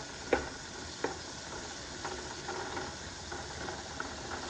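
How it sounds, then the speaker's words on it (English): Onions and mushrooms frying together in a pan give a steady, fairly quiet sizzle, broken by a few sharp clanks of a utensil near the start, with no talking. "And go ahead and cook up with the onions."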